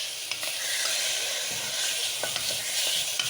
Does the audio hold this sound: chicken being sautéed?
yes